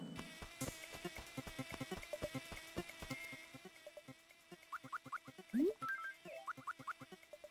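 Bees buzz faintly in Animal Crossing: Wild World, a soft, pulsing drone mixed with rapid game clicks, taps and a springy blip, all quiet and close.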